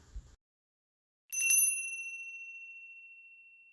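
A single small bell rings once, bright and clear, then rings out in a long, slowly fading tone after a brief silence.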